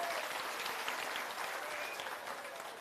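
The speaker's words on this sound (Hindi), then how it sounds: "एक बार जोरदार ताली बजाइए" A crowd at a village public meeting in Bihar claps steadily, a dense even wash of applause at a distance, moderately loud and fading slightly toward the end.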